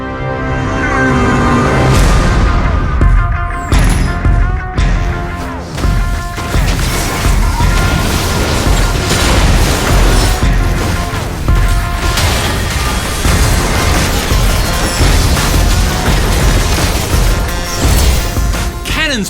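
Cannon fire booms in the League of Legends: Wild Rift video game, a loud, dense run of crashes, thwacks and bursts layered with music and effects, continuous and close throughout.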